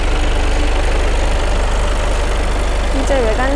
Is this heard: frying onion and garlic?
no